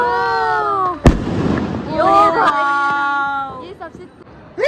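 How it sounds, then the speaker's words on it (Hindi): An anar fountain firework lit at a Diwali celebration crackles and hisses after a sharp bang, heard close amid excited chatter and people talking. "अब हम फोड़ रहे हैं अनार, जो कि मुझे बहुत पसंद है अनार फोड़ना।"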